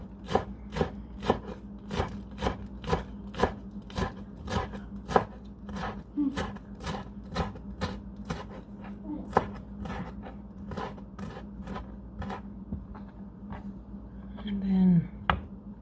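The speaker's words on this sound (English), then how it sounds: "So these are my green onion. I'm gonna give it a fine chop." A knife finely chopping green onions on a board, a long series of crisp regular taps with slight variations in pace, close and clear, with soft handling noises near the end.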